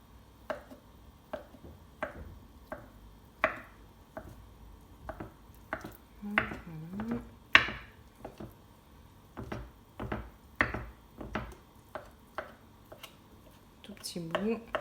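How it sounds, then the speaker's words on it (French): A knife cuts feta cheese into small pieces, giving a steady series of soft, close chopping taps roughly every second, with faint murmuring voice sounds in between. "Et je vais couper ma feta."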